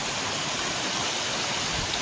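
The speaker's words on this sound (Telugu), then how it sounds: "ఇప్పుడు కాలువ రోడ్డు ఏ మాత్రం తేడా లేకోకుండా అలా నీళ్ళు అయితే వచ్చేసాయి" Floodwater rushing over a canal road in a residential area, a steady broadband roar of flowing water filling the whole stretch with no break and no voices.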